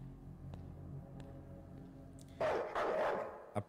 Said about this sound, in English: Jesus, stop barking.